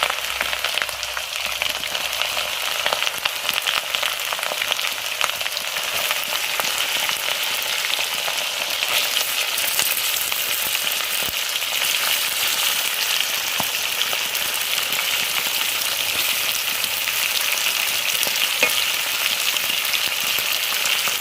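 Meat frying in hot oil in a pan with cinnamon, cloves, cardamom and garlic paste, a loud, steady, close sizzle and crackle running unbroken throughout, with no talking.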